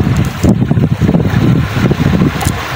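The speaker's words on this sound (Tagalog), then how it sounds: "malakas yung hangin" Strong wind roars and buffets the microphone with a loud, rumbling, gusty rush that continues throughout.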